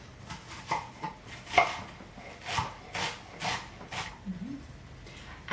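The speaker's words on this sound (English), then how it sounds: "I started chopping some onion, so 1 small brown onion" Knife chopping a small brown onion on a board, a series of crisp, evenly spaced cuts close by, steady and moderately loud with no talking.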